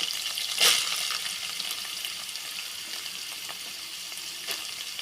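Onions frying in a pan for a mutton kola urundai curry give a steady, soft sizzle. Brief scraping clatters from stirring come through near the start and again later. No one speaks.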